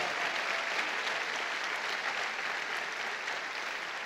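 A church congregation claps together in sustained, dense applause, loud and even across the whole stretch, a wash of many hands with no voices standing out.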